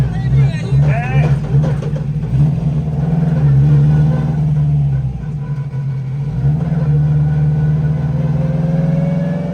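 A Subaru WRX engine on a race track revs under load as the clutch slips in a long first gear, a loud droning growl that rises and falls with steady rumble while people talk over it.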